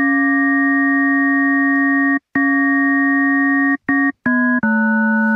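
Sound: additive synthesizer tone with detuned harmonics

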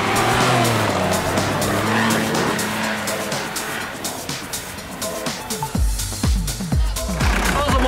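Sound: Mercedes G-Class off-roading, tires skidding

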